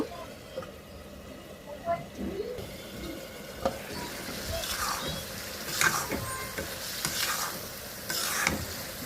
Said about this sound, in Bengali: এটার মধ্যে আমি আলুগুলো দিয়ে ভালো করে কষাবো আলুগুলো